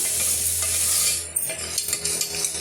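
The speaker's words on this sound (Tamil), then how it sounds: "இதையுமே வந்து ஒரு 2 நிமிஷம் வதக்கி விட்டுக்கலாம்" Crab pieces sauté in a pan for crab soup, sizzling loudly up close. After about a second, spoon-stirring and scraping knocks break through the frying.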